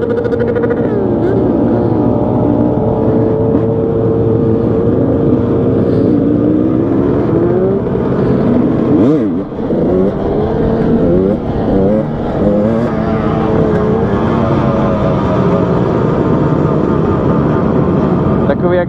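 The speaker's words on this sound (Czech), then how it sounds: "Ta motorka vůbec nejde dolů s otáčkama." A motorcycle engine holds high revs without dropping back to idle, droning steadily and loudly throughout, with a voice talking over it.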